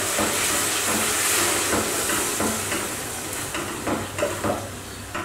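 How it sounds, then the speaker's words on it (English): Bacon crisping in a pan on an overnight boat trip, a loud continuous close sizzle and hiss with occasional pops and stirring scrapes. "And now the bacon's crisping up."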